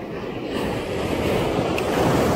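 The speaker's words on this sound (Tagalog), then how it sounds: "yung hampas ng alon sobrang lakas na naman kaya eto mababasa na naman tayo" Strong sea waves crash and wash steadily against the shore at a fishing spot, a loud, continuous roar of surf mixed with wind noise, with no voices.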